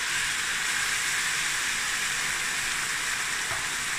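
Tuna with its canning liquid hits a pan of cooking onion, giving a steady, loud sizzle and hiss that runs unbroken throughout with no voices.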